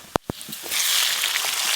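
Chopped tomato drops into a hot pan of oil and spices for a potato curry: two sharp knocks, then a steady, fairly loud sizzle that holds to the end with no talk.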